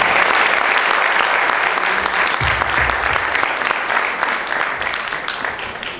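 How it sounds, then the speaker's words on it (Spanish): Sustained audience applause at a university anniversary ceremony, dense and steady clapping that tapers slightly toward the end, with a brief low rumble partway through. "Les pido un aplauso para"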